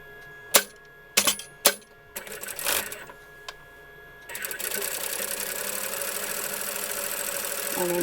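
A sewing machine stitches the side seam of a patchwork chenille tote bag, first a few sharp clicks and handling knocks, then a steady close motor whir running continuously to the end.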